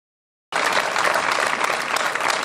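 Applause breaks out at a hill climb rally awards ceremony for a podium class finisher, starting abruptly after a moment of silence and holding as steady, dense clapping from a crowd.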